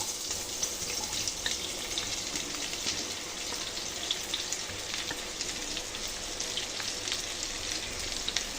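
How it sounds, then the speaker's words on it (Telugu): Chopped onions frying in hot oil in a kadai on a stove, a steady close sizzle and crackle that holds evenly throughout with no talking. "ఆయిల్ హీట్ అయిన తర్వాత కట్ చేసుకున్న ఆనియన్స్ని వేసుకోవాలి."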